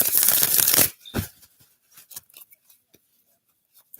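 A deck of cards being shuffled: a loud riffling burst at the start, then a snap and scattered light taps and card flicks trailing off into near silence.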